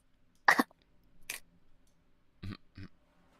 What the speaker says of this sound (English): I see you're in character with that cough.